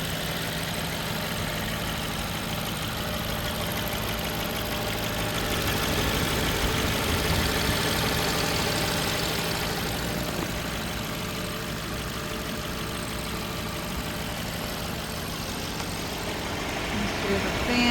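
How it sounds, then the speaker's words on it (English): The engine of a 2011 BMW 550i runs steadily at idle with a dense mechanical hum and faint ticking, heard up close for an extended stretch. "Here's a video of the engine."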